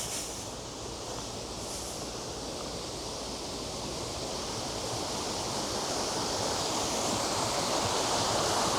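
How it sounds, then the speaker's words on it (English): Flowing river water rushes steadily and close by, a continuous broadband wash that swells slightly louder toward the end, with no voices. "Can you hear the water though?"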